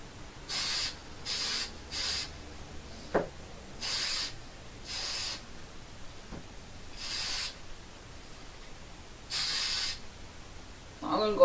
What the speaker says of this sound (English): go through and spray paint these off fluorescent orange